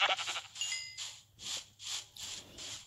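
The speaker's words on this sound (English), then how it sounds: "Please tell me it's a group of sheep." Sheep in the Minecraft video game bleat several times in a row, each call a short nasal burst at moderate loudness, with a soft background hum and no talking.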